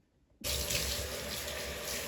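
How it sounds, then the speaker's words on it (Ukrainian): Water gushes from a tap in a bathroom sink as hair is washed with shampoo, starting abruptly after a brief silence and then pouring steadily, close and loud. "зараз я помою волосся шампунем"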